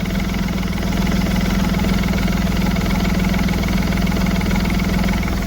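A Smart Fortwo diesel engine idles steadily with its turbo spinning, a constant close, loud low drone with a faint mechanical knock and vibration throughout and no talking.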